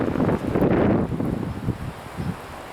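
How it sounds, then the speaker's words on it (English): Gusting wind in a snowstorm rushes and buffets loudly, a rough, uneven roar that rises and falls in close bursts against the microphone. "There's gusting winds."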